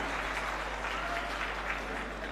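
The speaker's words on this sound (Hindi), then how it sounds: "माननीय मुख्यमंत्री महोदय को करताल ध्वनि के साथ विदा दें," An audience at an opening ceremony of a khadi and silk expo in Lucknow applauds steadily and loudly as the Chief Minister is seen off.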